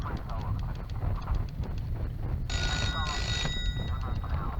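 A telephone rings in an office setting, a short burst of electronic ringing tones heard over steady background noise and talk-like murmur partway through the clip.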